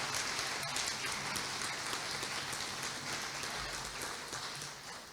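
Guests at a parish's 25th anniversary gathering applaud the committee in a building hall, a faint, continuous patter of clapping heard from a distance, slowly fading toward the end.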